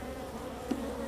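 Honeybees humming steadily around an open hive during an inspection, a close, even buzz with one louder bee passing briefly, and no talking.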